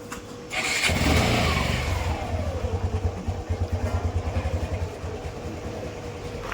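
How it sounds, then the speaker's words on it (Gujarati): A motorbike engine starting near a house as a parent and daughter leave for the first day of school: a quick starter crank, then the engine catching and settling into a steady, pulsing idle close to the listener. "હવે સ્કૂલ માટે નીકળી ગયા છીએ બાઇક લઈને હું ને મારી દીકરી ચારવી"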